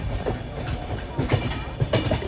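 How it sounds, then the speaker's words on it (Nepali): A long train rumbles past on the rails in West Bengal, wheels clattering in an uneven rhythm, close and steady throughout. "ट्रेन कति लामो छ"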